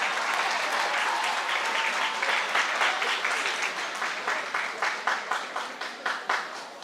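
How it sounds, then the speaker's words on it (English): An audience at a high school sports awards ceremony applauds DeAndre, a dense crowd ovation that gradually thins into a few scattered individual claps. "give DeAndre a round of applause"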